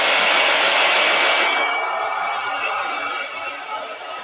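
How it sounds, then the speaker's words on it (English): A handheld blow dryer blasts close and loud as a steady rushing whoosh, easing slightly in strength partway through and running continuously for about four seconds with no talking. "I'm super sorry if this blow dryer is really loud, but I'm going to blow dry this over here for just a second."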